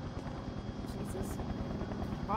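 A helicopter in the SCP Secret Laboratory video game drones with a steady, dense rotor hum and buzz, holding at a constant level throughout with a voice talking over it.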